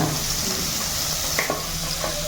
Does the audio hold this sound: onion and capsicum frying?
yes